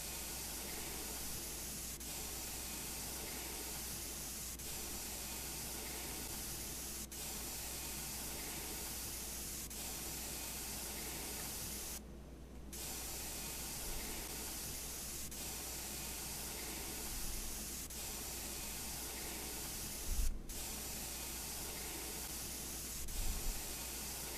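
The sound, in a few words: spray painting in Junkyard Builder video game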